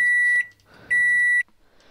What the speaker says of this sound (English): And it even beeps.